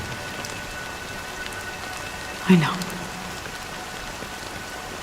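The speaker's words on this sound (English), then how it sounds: "But it's still raining." Rain falling as a steady, fairly quiet wash of patter, with a brief spoken voice cutting in near the middle.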